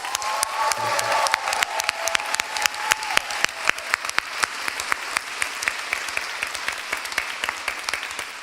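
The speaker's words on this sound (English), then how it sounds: "Please give yourselves and them a round of applause." Audience applause at a Temple University graduation ceremony in 2025, sparse claps building into steady clapping from the crowd with a tone fading early on, no talk.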